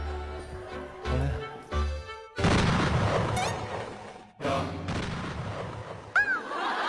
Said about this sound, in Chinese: 炸弹解除失败